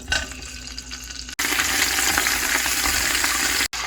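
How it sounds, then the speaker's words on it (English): Smoked meat sautéing in a large pot for collard greens, a loud steady frying sizzle filling the whole stretch, broken by two brief cuts to silence. "we're gonna go ahead and start sauteing our meat"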